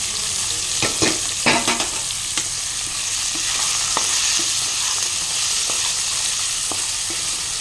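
Ivy gourd is stirred and fried in a pan with onion and green chilli, a steady close sizzle running throughout, broken by scattered scraping clicks of a spatula against the pan.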